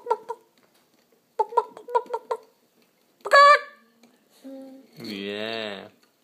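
Chickens cluck during a children's animal-noises game: a few short clucks, then a quick rhythmic run of them, followed by a louder squawk and drawn-out honking calls, all close and clear.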